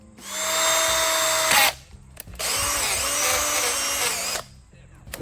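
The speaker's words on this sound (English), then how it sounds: "we're gonna drill right where it says that 10" A power drill bores a hole into a BMW M3 in two sustained whining bursts, the first about a second and a half long and the second about two seconds, loud and close with a short pause between.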